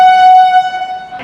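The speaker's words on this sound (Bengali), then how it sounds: "হাওড়া স্টেশনের 9 নম্বর প্ল্যাটফর্মে অ্যারাইভাল হচ্ছে ট্রেন নাম্বার" A loud, sustained train horn blast at Howrah station as a train pulls into the platform, holding one steady tone up close before cutting off.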